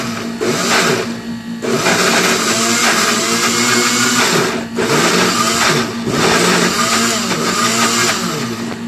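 A blender grinds ginger and garlic into paste, a loud, dense motor whir that runs in long bursts with brief pauses and pitch dips between them.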